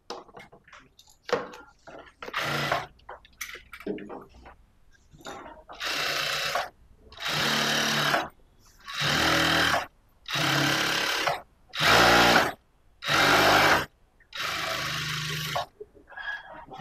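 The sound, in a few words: sewing machine stitching blouse lining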